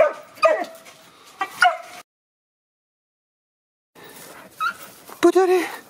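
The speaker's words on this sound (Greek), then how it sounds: "Και το γάβγισμα του Μπίγκλης το βοηθάει να κλάψει τώρα." A beagle out on a hare hunt gives close, high yips and whimpering whines in two short bursts, separated by a few seconds of silence.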